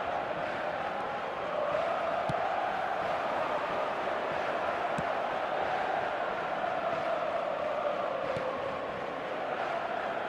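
Stadium crowd noise from an eFootball 2025 match, a steady broad roar with a faint swelling murmur of voices rising and falling, continuous throughout with a few brief sharp accents.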